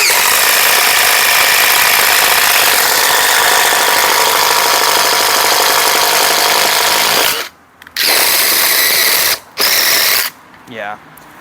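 A DeWalt DCF887 impact driver spins a 1-inch paddle bit through wood with a loud, steady whirring drone that runs unbroken for several seconds. It then cuts out in short gaps and restarts in brief bursts.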